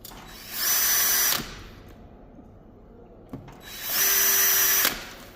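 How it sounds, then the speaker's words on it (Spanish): A power drill bores holes into the sheet steel of a fire door during panic bar and door closer installation, two separate bursts of close, loud whine, each under a second long, separated by a quiet pause. "a la hora de taladrar entero hay que tener cuidado de no perforar la chapa de las dos caras"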